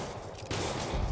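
Gunfire rattles through a shootout in a Spider-Man video game, with a dense burst of rapid shots that grows louder and fuller halfway through the short stretch.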